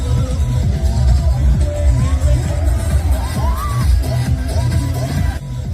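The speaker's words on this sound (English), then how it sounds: "It is an enjoyable sight with everybody clapping, cheering and popular songs being played." A lively crowd claps, cheers and whoops around a spinning basket boat at Hoi An, Vietnam, with music thumping underneath and voices babbling throughout.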